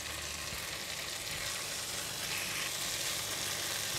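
Curry leaves drop into prawns frying for Kam Heong golden fragrance prawns, raising a steady, close, dense sizzle that holds evenly throughout with no voices.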